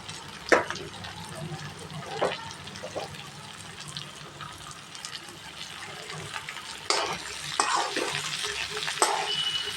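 Chopped ridge gourd sautéing in hot oil in a pan, a steady soft sizzle broken by several sharper scraping stirs, close and fairly quiet.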